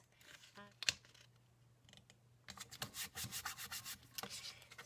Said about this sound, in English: I'm going to use just some double-sided score tape or adhesive tape for this